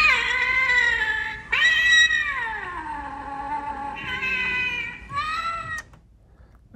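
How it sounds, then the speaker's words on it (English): A Halloween animatronic black cat decoration in a Target store lets out a series of drawn-out, wailing electronic meows and caterwauls, loud and close, several long cries in a row before falling quiet. "Let's see what the black cat does."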